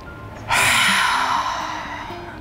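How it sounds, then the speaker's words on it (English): A single strong, forceful exhale of breath during a guided breathing exercise, a close, airy rush that starts abruptly and slowly fades, heard alone with no talking. "exhale all the air you've got left in your lungs with a very strong breath."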